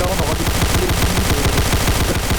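Rapid gunfire and shell blasts in a Roblox trench battle, a dense, continuous barrage of repeated shots rattling loudly throughout with no pause.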